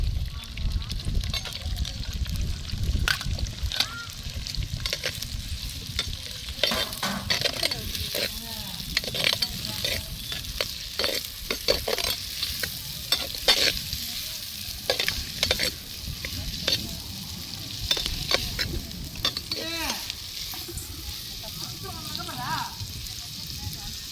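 Onions sautéing with green chillies and garlic in a pan for a dried fish curry: a continuous close sizzle broken by frequent scraping stirs and spoon clinks, with a voice talking at times over it.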